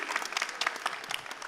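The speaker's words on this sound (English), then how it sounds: "give you all of you a huge round of applause" A crowd at EVE Online Fanfest applauding, dense steady clapping from many hands throughout, moderately loud and without voices.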